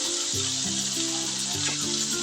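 Fish pieces are laid one by one into hot oil for a Bengali fish dish, giving a bright, steady sizzle close by, with low cooking hum underneath and no talking.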